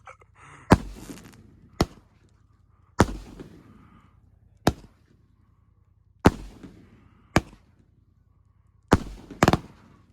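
A Cap 12 shot firework fires a string of sharp, loud bangs outdoors, each crack followed by a short crackling tail, irregularly spaced, with a double pop near the end.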